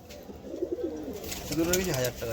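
Madras pigeons coo in a loft in soft, repeated low warbles, with a voice talking over them and a busy background hum.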